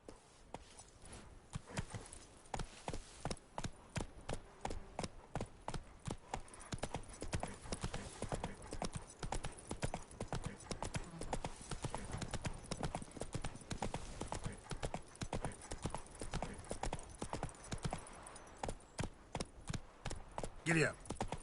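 Horse hooves gallop in The Witcher 3 game, a rapid, steady clip-clop that runs close and loud throughout, with a faint snort or whinny now and then.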